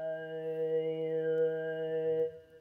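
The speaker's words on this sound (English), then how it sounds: "what you're hearing is a synthesized singing model" Synthesized singing voice model in ChucK, played live with a joystick, holding one steady sustained vowel tone with a slight gliding shift in its upper harmonics before cutting off abruptly.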